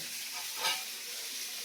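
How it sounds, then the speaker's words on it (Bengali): Fish fry in a pan with a soft, steady hiss and crackle, faint and close, with one brief louder sizzling swell partway through. "এখন মাছ ভাজছি"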